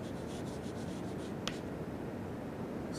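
Chalk or marker writing on a board during an aerospace engineering lecture on aircraft tail arrangements, a faint scratchy stroke sequence with one brief sharp squeak, under steady room hiss.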